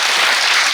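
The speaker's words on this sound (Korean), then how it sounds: "박수 한번 부탁드립니다." Audience applause at a youth social-participation presentation contest: a loud, brief burst of dense, even clapping from a crowd.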